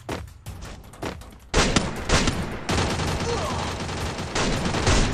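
Dense gunfire in a shooter video game, bursts of rapid automatic shots layered over one another, loud and close, continuing almost without pause.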